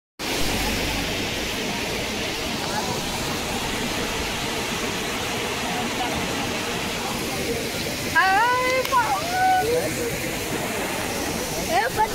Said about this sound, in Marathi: धबधबा धबधबा